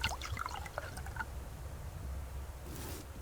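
Water pours and drips into a planter in the survival game Subsistence, a short wet trickle with splashy drips at the start, quiet and close with no talking.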